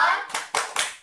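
A class of schoolchildren claps a thumb-clap chant for a classmate: three sharp, evenly spaced group claps, close and loud, after a short voice at the start.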